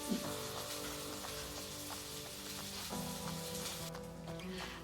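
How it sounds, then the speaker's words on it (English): Faint, steady sizzling of sausage and garlic frying in a pan, a continuous crackling hiss with a low background hum throughout. "I've got a nice little sizzle"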